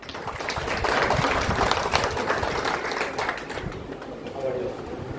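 Applause from an audience in a convent hall during a political press meet, a dense burst of clapping that swells then gradually thins out over about five seconds, with voices mixed in.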